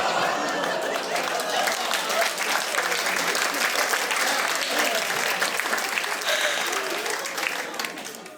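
Sustained applause from a comedy club audience, dense and steady for several seconds with some voices mixed in, tapering off at the very end.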